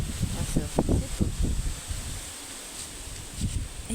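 Wind blowing through leaves outdoors in hot weather, a soft continuous rustle with gusty swells, mixed with low broadband wind noise on the microphone.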